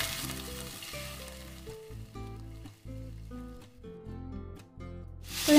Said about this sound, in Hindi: अब हम इसमें डालेंगे पनीर क्यूब।